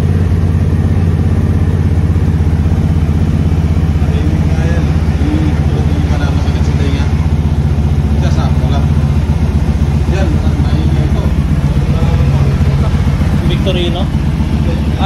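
An FKM Coolser 500cc motorcycle engine idles close by with a steady, loud low rumble throughout, while people talk over it.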